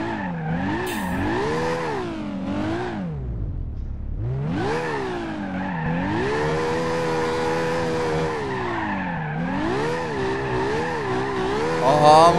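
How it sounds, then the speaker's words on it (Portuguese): A Toyota Supra drifting in BeamNG.Drive, its engine revving up and down in long wailing sweeps with squealing tires, dipping briefly then roaring on loud and close, alone without talk. "Vou tentar fazer drift aqui em volta do posto aqui"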